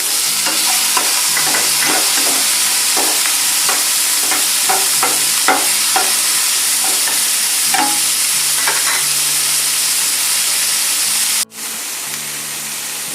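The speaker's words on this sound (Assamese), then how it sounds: "জিৰাখিনি ফুটাৰ লগে লগে আমি তাত পিঁয়াজখিনি, এটা ইয়াত ডাঙৰ কাটি লোৱা পিঁয়াজ আছে, পিঁয়াজখিনি আমি ঢালি দিম।" Chopped onion and tomato frying with cumin in hot oil, a loud, continuous close sizzle and hiss with regular stirring scrapes, then a short break before the frying resumes.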